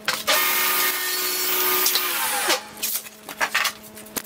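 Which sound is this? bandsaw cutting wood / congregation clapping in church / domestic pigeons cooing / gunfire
bandsaw cutting wood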